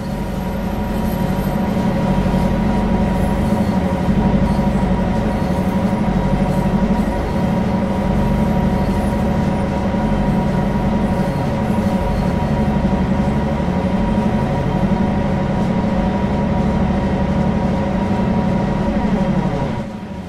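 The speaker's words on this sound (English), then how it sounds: "You're currently aboard a GP9RM diesel locomotive." A Canadian National GP9RM diesel locomotive in Train Sim World 5, on the Oakville Subdivision, gives a loud, steady rumbling drone with a constant engine hum that runs unbroken for about twenty seconds.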